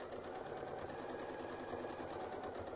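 A sewing machine stitches a quilt block seam slowly, its needle mechanism whirring and ticking in a steady, even hum, close and fairly quiet, with no talking.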